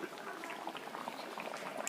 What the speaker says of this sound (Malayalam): മീൻകറി തിളച്ച്